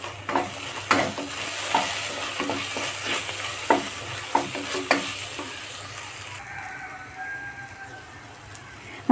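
Beef with fennel and garam masala sautéed in a pan, a loud steady sizzle broken by repeated scraping strokes of a spoon, which fade near the end, no one speaking.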